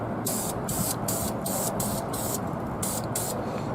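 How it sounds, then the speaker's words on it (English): A spray can lays dark matte brown primer onto 3D-printed terrain scenery in a steady close hiss, pulsing as short bursts start and stop. "we're going to spray all of this with this brown"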